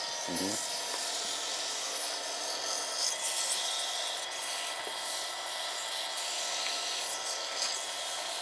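Steady, close rasping of hand sanding with fine 600-grit sandpaper, continuous rubbing strokes running without pause throughout.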